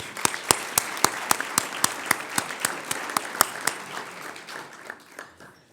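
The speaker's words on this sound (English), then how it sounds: "Let's give them a round of applause." An audience at the National Press Club gives a round of applause, crisp individual claps standing out over a steady wash of clapping that fades toward the end.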